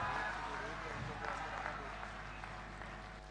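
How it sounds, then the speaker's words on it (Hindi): Applause from a crowd at an outdoor political rally with the chief minister in a pandal, a steady wash of clapping heard at a distance, quiet and slightly fading, with faint voices mixed in. "जोरदार तालियां एक बार।"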